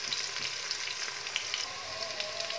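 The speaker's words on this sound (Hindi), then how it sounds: "जैसे ही प्याज लाइट गोल्डन हो जाएगा फिर इसके अंदर हम अदरक लहसुन डालेंगे" Onions fry in a pan for Kashmiri daal gosht, giving a steady, close crackling sizzle with faint bubbling and no voices.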